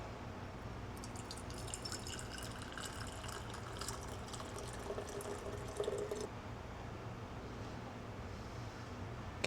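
Bone broth pours through a small strainer with soft, close trickling and dripping, faint and continuous, with brief spattering bursts midway.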